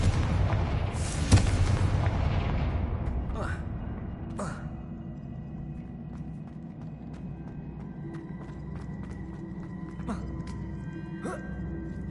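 A Confringo blasting spell explosion in the game Hogwarts Legacy on PS5. A loud rumbling boom opens and slowly fades into a low roar, followed by several faint sharp cracks spread across the rest.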